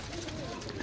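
Pigeons cooing in a loft kept by a Punjabi pigeon fancier, soft low coos running steadily through a brief, fairly quiet stretch with faint background noise.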